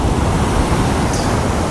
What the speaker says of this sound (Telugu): వాటర్ అయితే ఫుల్ బాగా వస్తున్నాయి, చాలా దూరం, ఇంత దూరం వస్తున్నాయి చూడండి.